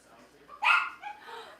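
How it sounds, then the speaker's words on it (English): A single sharp dog bark rings out over a quiet background, followed by a softer yip or two, fairly faint and not close. "Why are the dogs barking?"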